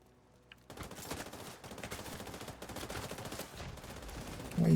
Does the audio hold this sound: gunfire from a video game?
yes